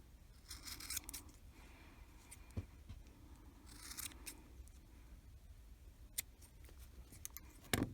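Small scissors snipping crochet yarn for a Grinch hat and scarf, a few quiet crisp cuts spread across a calm, faint background, with one sharper snip near the end.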